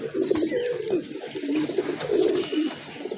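Rampuri pigeons coo close by in a series of soft, rolling, throaty calls that come one after another, with faint background noise between them.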